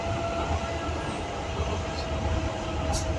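A Docklands Light Railway driverless train running on an elevated track in London gives a steady loud rumble and rolling hum from inside the carriage, with a faint high squeal over the continuous rail noise.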